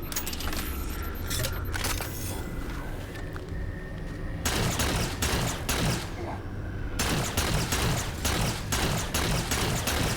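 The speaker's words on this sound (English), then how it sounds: "Man, the alien guns do not sound good." Rapid bursts of alien sci-fi gunfire in Halo 4 crackle in quick succession, loud and dense, with pauses between volleys over a constant background of game noise.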